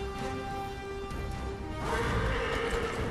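A horse in the video game Darksiders Genesis lets out a whinny over a steady game tone, then more hoof and movement noise rises in the second half.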